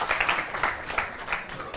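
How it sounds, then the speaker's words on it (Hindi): An audience gives a short burst of clapping for a child named Guru, a brief, moderately loud patter of hands with some voices mixed in. "बहुत जोरदार तालियां आप गुरु के लिए बजाएं"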